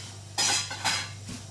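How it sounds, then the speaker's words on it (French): Metal saucepans clattering and clinking as someone rummages through them in a home kitchen, with two loud bursts of banging followed by a softer knock. "Trouver la bonne casserole."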